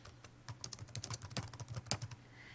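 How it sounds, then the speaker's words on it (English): Quiet, close keyboard typing, an irregular patter of soft key clicks at low volume with no talking, as text is entered in a Google Docs word processor. "So if you want to type something in"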